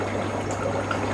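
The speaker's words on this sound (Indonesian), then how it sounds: "Setelah bersih baru kita lakukan pergantian air. Baik, ini akan saya ganti dulu airnya." Water poured steadily during a water change in a killifish (Guentheri red) tank, a brief continuous splashing stream with low hum beneath, no voices.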